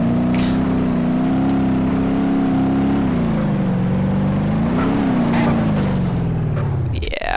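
A car driving in BeamNG.drive, dented after a crash yet still running: a loud, steady engine drone that rises and falls slightly with the throttle throughout, with a voice talking over it.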